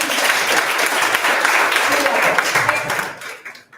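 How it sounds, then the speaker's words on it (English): An audience claps for a student speaker at a classroom community-empowerment session, steady dense applause lasting about three seconds before fading out, with a faint voice underneath. "Can you clap for him?"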